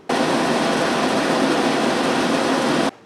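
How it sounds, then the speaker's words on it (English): An air conditioner runs with a steady broadband whoosh and hum, fairly loud and even, starting and stopping sharply after about three seconds with no voices. "I wonder what an air conditioner sounds like."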